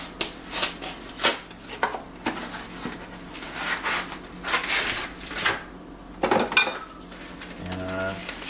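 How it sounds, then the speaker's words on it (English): A cardboard frozen pizza box is opened by hand in a kitchen, with a run of scraping, tearing and tapping sounds and a few sharp knocks heard close up. "Let's open up the box."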